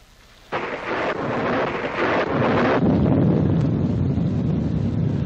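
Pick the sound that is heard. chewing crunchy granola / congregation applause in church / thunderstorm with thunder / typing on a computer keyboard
thunderstorm with thunder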